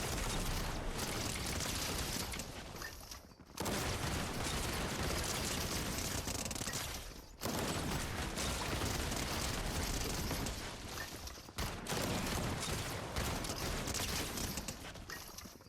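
Goo gun firing over and over in Fortnite, a loud unbroken barrage of dense bursts and booms with short pauses between long volleys.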